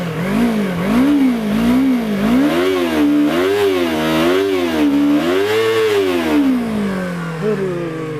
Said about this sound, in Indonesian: orang akan tahu bahwa ini mesinnya 250 cc dari MT25